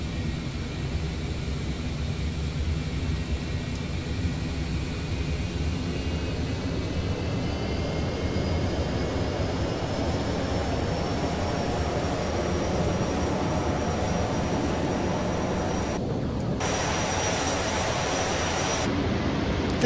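Concorde jet engines in Flight Simulator X, a loud, steady roaring whine with a faint rising tone, sustained and unbroken throughout.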